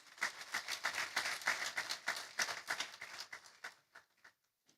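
Applause breaks out at a Nigerian accountants' opening ceremony for a civil aviation official, a dense, moderately distant clatter of many hands that builds briefly, holds, then thins out into a few scattered claps before silence.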